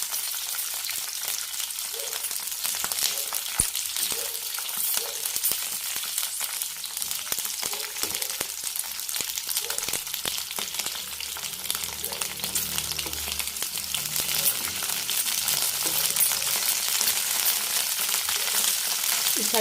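Green chilies frying in a pan for tomato chutney, giving a steady, close sizzling hiss that holds throughout, with occasional light clinks of a utensil.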